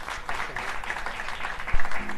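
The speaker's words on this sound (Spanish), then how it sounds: "Un aplauso para él" An audience at a flamenco performance in Mijas applauds a guitarist, with brief, steady clapping at moderate level and a soft thump near the end.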